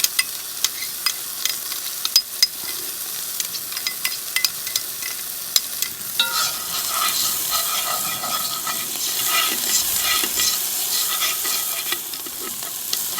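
Onion and four cloves of garlic sautéing in a pan for lamb shanks, with a continuous close sizzle and occasional scraping stirs that grow louder and hissier partway through.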